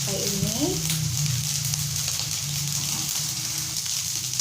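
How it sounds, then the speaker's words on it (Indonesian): Fried rice with petai and sweet soy sauce being stirred in a pan, a steady sizzling fry with soft scraping, continuous and close, with brief faint talk near the start. "sambil kita mengaduk rata semua nasi dengan bumbu dan kecapnya"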